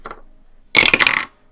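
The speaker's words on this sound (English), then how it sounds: "we're going to roll a 6-sided dice." A six-sided die is rolled: a short, sharp clattering burst of about half a second, close and fairly loud, after a faint brief tap and then quiet.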